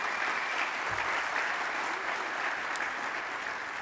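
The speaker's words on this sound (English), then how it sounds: "a round of applause" Full audience applause at an Army symposium honoring a volleyball championship captain, a steady, even roar of many hands clapping throughout, moderately loud and sustained without pause.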